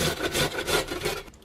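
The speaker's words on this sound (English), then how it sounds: "So I'm just going to grate all the carrots." Carrots being grated onto a plate, giving a quick series of rhythmic rasping strokes, close and fairly soft, with no voices.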